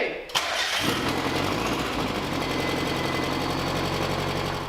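Mazda Miata with a swapped 1.8 engine, running without its idle air controller, cranks briefly and catches, then settles into a loud, steady, slightly uneven idle close by, with a voice talking over it.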